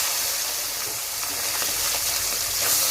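Small mola fish, seasoned with salt and turmeric, fry in hot oil with a steady, close, dense sizzle and hiss that holds evenly throughout and has no talk over it.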